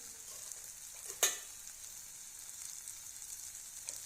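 Chopped tomato sautéing in a pan for prawn masala, a faint steady sizzle with one sharp clink of a utensil partway through.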